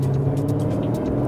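A 2018 Aston Martin DB11 V8 idles along at low revs, a steady deep engine drone heard from inside the car without talk.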